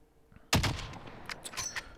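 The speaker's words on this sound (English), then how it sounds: "I missed the shot." Gunfire in the Call of Duty Warzone video game, a sharp loud shot breaking out of near quiet, followed by a decaying tail and a few fainter distant shots or impacts.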